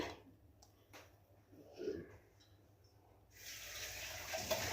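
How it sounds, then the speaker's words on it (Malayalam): Water left from rinsing a mixer jar is poured into a dal and spinach curry, starting with faint handling clinks and a soft gurgle, then swelling into a louder, steady splashing pour near the close. "ഇനി ആവശ്യത്തിന് ഈ ജാറ് കഴുകിയ വെള്ളം ഒഴിക്കാം"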